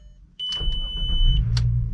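A US-spec MK4 VW Jetta VR6 wagon cranks and fires up after a sharp electronic chime. The close engine rumble rises and settles into a steady idle.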